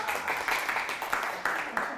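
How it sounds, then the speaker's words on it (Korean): An audience clapping at a lecture, a loose burst of applause with rhythmic, slightly uneven claps continuing throughout. "박수 미리 한번 칠까요?"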